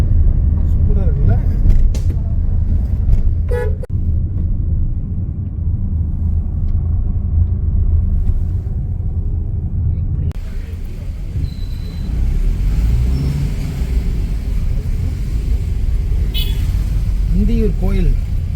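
Road traffic around the temple at the Anthiyur festival: a continuous rumble of cars and buses moving nearby, with people talking over it and a few sharp intermittent sounds.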